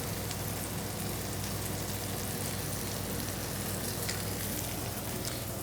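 Peaches caramelize in a pan with butter and maple syrup, giving a steady, even sizzle with soft crackle that holds at one level throughout, close and unbroken.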